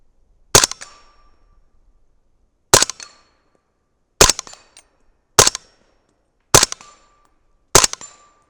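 Six sharp 300 Blackout rifle shots from a 30-round magazine with powder-coated bullets, each answered by a ringing clang off swinging steel plates, spaced a second or more apart with brief ringing tails and near-silence between.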